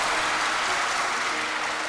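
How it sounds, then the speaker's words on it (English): Audience applauding after a figure skating jump series: a dense, steady wash of clapping from a large crowd, loud and sustained for the whole short stretch, with no talking. "After finishing her series of continuous jumps, Kanon was bathed in applause"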